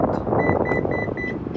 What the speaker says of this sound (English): You'll hear 3 audible beeps if I want to save it